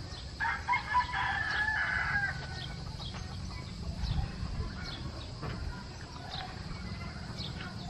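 A rooster on a rural provincial farm crows once clearly at mid-distance, and other chickens cluck faintly around it against a steady outdoor background.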